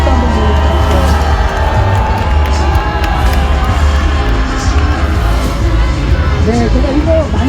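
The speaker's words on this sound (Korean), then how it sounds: "박수 한번 보여주십시오." A rally crowd at a night protest in Gwanghwamun, Seoul, roars with continuous cheering, whoops and shouting from start to finish, loud and dense, with scattered voices rising above the din.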